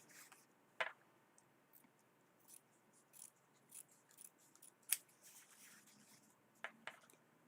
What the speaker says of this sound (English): The trimming would go by so much faster with a bigger scissor.